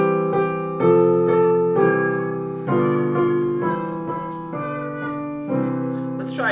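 Twinkle Twinkle Little Star played as a simple instrumental melody in a major key, with clear separate notes in an even tune rhythm, close and moderately loud, and no one talking or singing.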